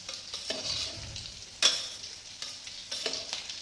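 A spoon stirs sabudana khichdi with potato in a sizzling pan, giving a soft frying hiss under repeated scraping strokes and one sharper clink of utensil against metal.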